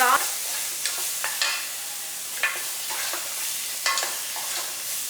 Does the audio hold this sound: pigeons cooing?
no